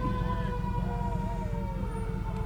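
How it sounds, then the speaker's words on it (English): An ambulance siren at the Battle of Plattsburgh parade wails with rising and falling tones over a steady rumble of crowd and traffic noise, sounding somewhat distant. "people are hearing sirens and don't realize what it is"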